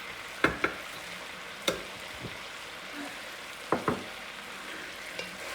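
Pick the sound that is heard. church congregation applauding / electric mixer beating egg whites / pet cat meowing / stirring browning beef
stirring browning beef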